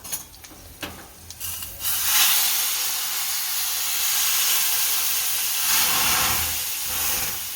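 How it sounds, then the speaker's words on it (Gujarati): A hot tempering of oil, asafoetida and red chilies is poured into kadhi. Clattering handling comes first, then a loud, sustained steam hiss that swells near the end. "અને આ વઘાર આમાં નાખી દઈશું."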